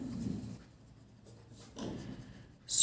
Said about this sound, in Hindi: तो हम इसका आंसर लिखेंगे